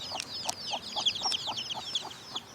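A free-range hen out with her chicks clucks in a quick, regular series of short, close calls, while thin high chick peeps flutter above the clucking.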